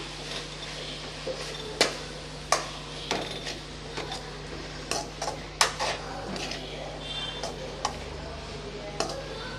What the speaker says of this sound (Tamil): கடைசியாக நம்ம துருவி வச்ச தேங்காயை சேர்த்துக்கலாம் நல்லா கலந்து விட்டுறலாம்